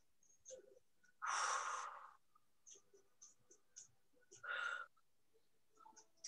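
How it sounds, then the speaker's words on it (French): Two deep breaths during a Pilates strengthening session, broad and airy, each lasting under a second, with faint rustles and small movement noises in a quiet room between them. "Faites 3 respirations complètes."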